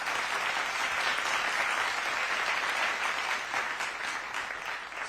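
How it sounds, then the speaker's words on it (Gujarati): Sustained applause from a large crowd at a foundation stone ceremony for a Sainik School in Boriyavi, Mehsana, steady dense clapping throughout at moderate distance. "સતત તાળીઓની ગુંજ સાથે આપણે વધાવીશું"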